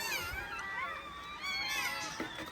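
Several high, thin mewing cries from newborn puppies overlap and waver, like tiny kittens calling, fairly faint with a little background noise.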